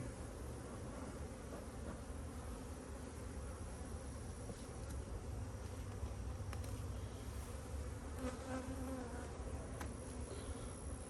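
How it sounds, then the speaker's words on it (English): Agitated honey bees buzz at a hive in a cow pasture apiary, a dense, continuous swarm drone filling the air, steady and fairly close, with no voices. "sometimes these bees right here get a little agitated"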